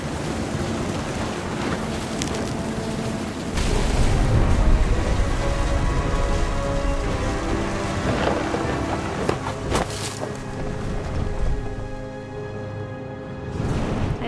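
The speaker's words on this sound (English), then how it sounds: "The thunder sounded much too close and full of angry power" Stormy rain and wind in the video game What Remains of Edith Finch, a dense continuous roar of rain and gusts that swells louder partway through, with sharp bursts near the end.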